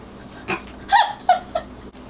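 A dog yips and whimpers in a few short, close barks spaced across two seconds, with no talking over them.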